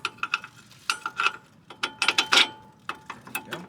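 Ratchet wrench clicking as a CV axle bolt is tightened on a Nissan Altima, quick bursts of close metallic ratcheting with short pauses between strokes, no talking.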